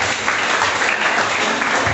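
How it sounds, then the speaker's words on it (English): An audience at a debate on online versus face-to-face learning applauds a speaker, a loud, dense burst of clapping filling the whole moment without any talk. "Please, can you clap for her?"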